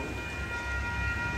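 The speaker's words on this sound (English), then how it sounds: "Here comes Amtrak 728 train." An Amtrak Capital Corridor passenger train rumbles steadily past at close range while arriving at Oakland Jack London Square station, with a constant low roar and faint high metallic tones over the noise.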